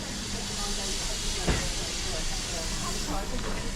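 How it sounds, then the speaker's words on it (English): Steam locomotive in British Railways green livery hissing steam continuously at a heritage railway, a loud broad rush of vented steam with a brief thump partway through. "It is right there, a nice British Railways green colour scheme, steaming quite nicely already."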